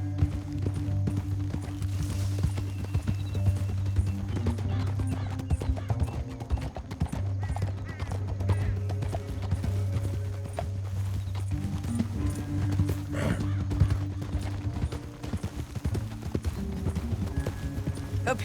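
Rhythmic hoofbeats of horses galloping in Red Dead Redemption 2, under a steady low musical drone, with faint background effects throughout.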